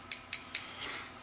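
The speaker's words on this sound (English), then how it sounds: "you could actually use these little scissors if you really wanted to" Small scissors snipping leather for a draw knife protector: three crisp, evenly spaced cuts close up, then a longer softer slice, with no talk.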